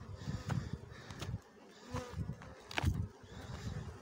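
Honeybees buzz steadily at the hive, a soft, continuous droning swarm that swells and dips slightly, with no talking.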